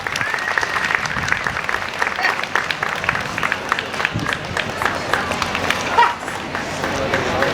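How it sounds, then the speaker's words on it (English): An outdoor Canada Day Rotary crowd at Lionsgate breaks into sustained, dense clapping that stays loud and even across the whole stretch, with a few scattered voices mixed in. "Round of applause."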